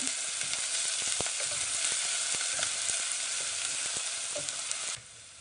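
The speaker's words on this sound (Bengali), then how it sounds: "পেঁয়াজ ও রসুনগুলোকে ভালো মতো নেড়ে ব্রাউন কালার করে নেব" Steady, dense sizzling of onions and garlic frying in a pan until browned, with occasional scraping clicks from stirring; the sizzle drops away sharply near the end.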